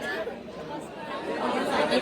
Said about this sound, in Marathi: फुल गर्दी झाले एकदम